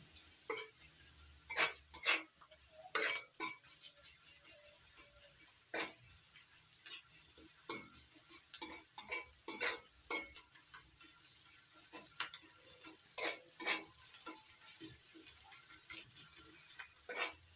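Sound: onion, garlic and black cumin frying in a pan

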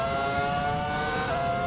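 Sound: Ferrari F2004 engine in F1 2020 video game

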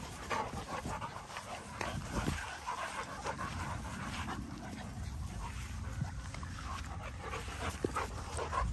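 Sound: dog panting and whimpering

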